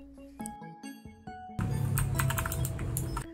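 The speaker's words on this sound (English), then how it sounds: "The key clicks halfway through the press." Blue switches on a MageGee MK-Storm mechanical gaming keyboard with a removed keycap: a few close, crisp clicks, followed by a dense burst of rapid clattering keystrokes.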